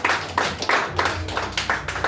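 A church congregation claps together in a steady, rhythmic beat, about three claps per second, loud and full throughout.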